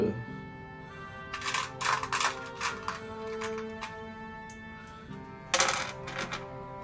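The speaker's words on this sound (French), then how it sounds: "Je vais mettre des petits dés." Small dice clatter and click onto a tabletop in several short bursts during a solo Okko Chronicles board game, with a quiet hum in the background.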